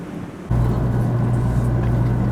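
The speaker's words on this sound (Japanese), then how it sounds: "通過列車を待ち、発車です。" A 500 series Shinkansen Kodama pulls away from Shin-Yamaguchi station: a steady low electric hum and rumble cut in suddenly and hold level and fairly loud.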